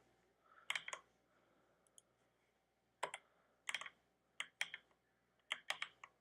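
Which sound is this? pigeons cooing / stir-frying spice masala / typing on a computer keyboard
typing on a computer keyboard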